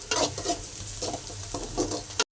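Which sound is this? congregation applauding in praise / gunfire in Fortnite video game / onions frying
onions frying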